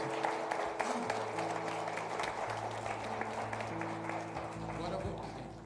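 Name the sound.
church congregation applauding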